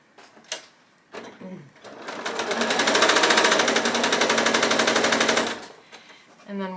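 A quilting sewing machine stitches pieces together in one steady, fast rattling run of about three and a half seconds, close and fairly loud, with faint handling noises before and after.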